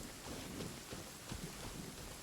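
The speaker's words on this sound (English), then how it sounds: "This is a more aggressive thunderstorm than the last one." Rainy thunderstorm weather in the video game Genshin Impact, a steady wash of rain and wind noise with a few low rumbling swells, fairly quiet and continuous with no talk.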